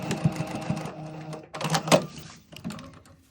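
A sewing machine runs in short bursts while stitching an invisible zipper into a garment with waistband and lining, its motor whirring and needle clattering at close range, pausing briefly between runs, with no talk.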